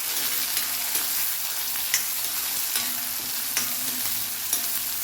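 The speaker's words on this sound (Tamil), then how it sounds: "இது நல்லா டீப்பாக ஃப்ரை ஆகுதுங்க" Onion and dried red chillies deep frying in hot oil, a constant dense sizzle punctuated by periodic light scrapes of a spoon stirring the pan.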